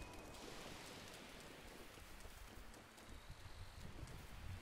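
Steady hiss of rain falling continuously, even and dense, with a faint wind-like wash underneath and no voices, in The Legend of Zelda: Breath of the Wild.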